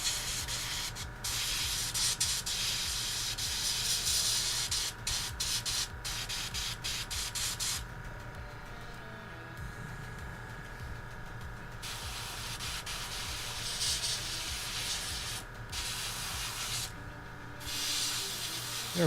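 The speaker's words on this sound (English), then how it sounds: "this paint's having flow issues, so I'm just puffing it on" An airbrush sprays paint that has flow problems, hissing steadily with short puffed bursts that briefly cut out, close by and with no talking.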